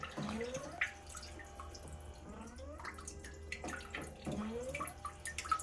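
A steady jet of water sprays and splashes from a toilet bidet in a Korean smart home, with gurgling and dripping, fairly faint and continuous.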